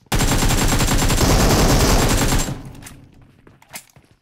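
A sustained burst of rapid automatic gunfire in PUBG Mobile rattles loud and close for about two and a half seconds, then cuts off and leaves a few scattered fainter shots and movement sounds.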